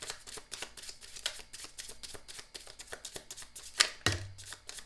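Tarot cards being shuffled by hand, a quick run of soft riffling slaps, close and quiet, ending with a firmer tap.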